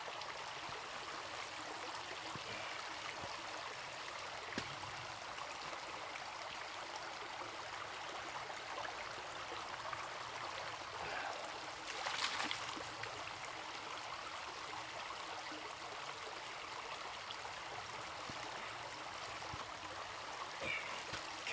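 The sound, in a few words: stream water while filling a Vecto 2-liter water bag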